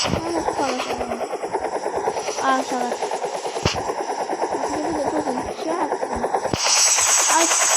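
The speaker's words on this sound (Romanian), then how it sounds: "Mergem cu elicopterul." Helicopter rotor chop from the video game Escape the Berry, a steady loud whirring that runs under the whole stretch while a person talks over it.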